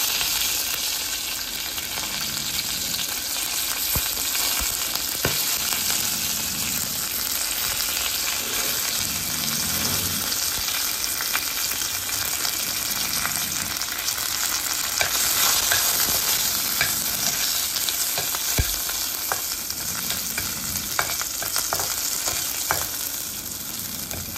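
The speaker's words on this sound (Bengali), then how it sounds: "এর মধ্যে আমি সর্ষে দিলাম, কাঁচা লঙ্কা আর কারি পাতা।" Mustard seeds, green chilli and curry leaves sizzle and crackle steadily in hot oil for a Bengali chutney tempering, a loud, continuous frying hiss with scattered pops and occasional stirring, no talking.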